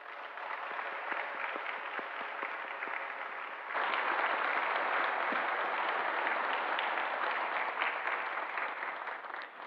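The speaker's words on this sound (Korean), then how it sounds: "격려의 박수 부탁드립니다" Members of a church congregation clap encouragingly during a Sunday worship service, a dense patter of many hands at moderate distance that swells suddenly partway through and carries on steadily.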